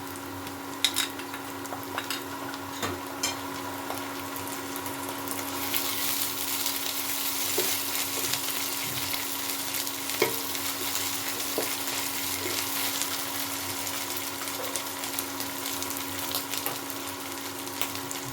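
Garlic paste frying in a pan with onions, a continuous close sizzle that swells after the first seconds, with occasional scrapes and clicks of stirring.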